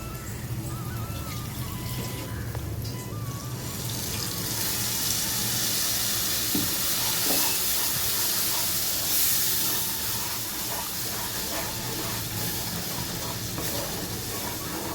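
Garlic chutney paste with ground fried urad dal frying and sputtering in plenty of oil, a steady broadband sizzle and hiss lasting throughout, close and fairly loud with no talk.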